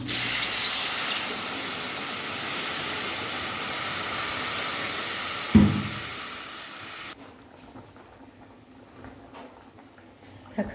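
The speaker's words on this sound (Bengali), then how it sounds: "জলটা দিয়ে দেবো" Water streams steadily into a hot frying pan of fried taro root with turmeric, a broad hiss, a brief knock midway, then the rush cuts off leaving a quiet simmer.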